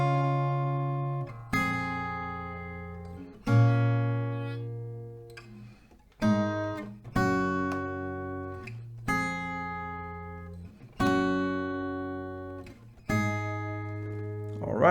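An acoustic guitar strums the chords of the first verse, with about nine ringing chord hits in a steady rhythm, each decaying before the next, played alone and close.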